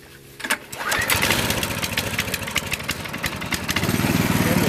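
A Honda CT200 motorcycle engine, fitted with a new Amazon carburetor, fires up and runs with rapid, uneven popping pulses, close and fairly loud throughout the short burst.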